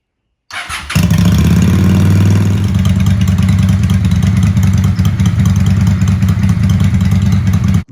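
Motorcycle with stock exhaust pipes and drilled-out baffles starts up and settles into a loud, steady, throbbing idle that runs close and unbroken for several seconds, with no talking.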